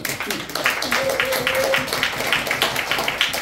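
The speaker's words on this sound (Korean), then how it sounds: "이럴 때 조금 더 박수 쳐주시면" A concert audience claps for a performer's introduction, a steady field of many hands, with a voice speaking and laughing over the applause.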